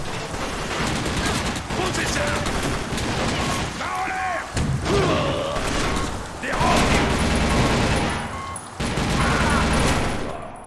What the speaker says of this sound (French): En vrai, il est super puissant le pistolet.